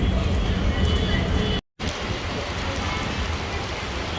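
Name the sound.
heavy rain pouring down in India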